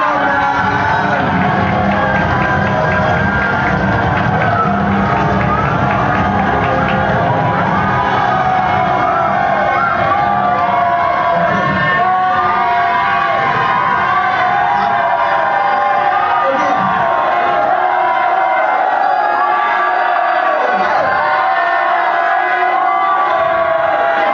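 Audience at a staff training event screaming and cheering, a loud sustained roar of shrieks and shouts from many people that fills the whole stretch without pause.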